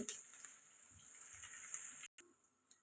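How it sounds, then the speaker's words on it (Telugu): Onions and chicken for a chicken biryani fry in a pan with a steady, fairly faint high sizzle that cuts out briefly near the end, then resumes. "ఇలా ఫ్రై అవుతుంది కదండి"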